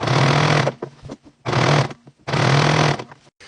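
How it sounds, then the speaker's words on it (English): A sewing machine runs in three loud bursts of steady whirring stitches through hoodie fabric with red thread, separated by short pauses with faint handling sounds. "I'm at my sewing machine now"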